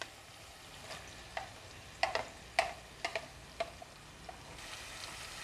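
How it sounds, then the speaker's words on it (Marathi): Crushed ridge gourd with chili, garlic, cumin and coriander is sautéed on a medium flame, a soft sizzle broken by scattered sharp spatula taps against the pan. "आता पुन्हा व्यवस्थित चांगलं परतून घेऊया। गॅसची फ्लेम मीडियम आहे, मीडियम फ्लेमवरतीच मी परतून घेणार आहे।"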